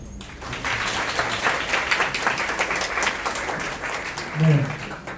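An audience at a Korean university sports-admissions information session applauds a lecturer, a full, steady round of clapping that swells after a brief quiet start and carries on under a voice briefly speaking near the end.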